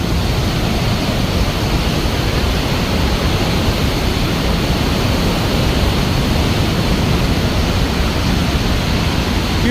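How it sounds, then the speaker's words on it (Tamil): Water crashing and splashing onto rocks at a powerful waterfall in Uganda, a loud, steady, broadband roar that fills the whole scene without letting up and with no voices. "தண்ணி அப்படியே கீழே விழுந்து செதறி போகுது பாருங்கள்"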